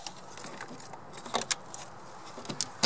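Battery clamp cables connected at a vehicle's mounted battery during starter motor testing: a few sharp metallic clicks and clinks, close and fairly quiet over low background hiss.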